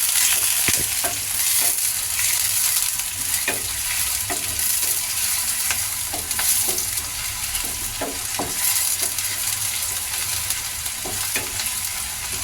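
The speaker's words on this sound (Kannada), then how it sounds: "ಈಗ ಎಣ್ಣೆ ಬಿಸಿ ಆಗಿದೆ ಈರುಳ್ಳಿ ಹಾಕ್ತಾ ಇದ್ದೀನಿ ಈರುಳ್ಳಿನ ಫ್ರೈ ಮಾಡ್ಕೊಳ್ಳೋಣ" Onions frying in hot oil for hotel-style veg fried rice, a steady close sizzle with scattered stirring clinks and scrapes of a spatula against the pan throughout.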